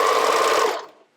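A sewing machine runs a short back-tacking burst stitching elastic onto a camisole edge, a steady close whir of about a second that quickly stops.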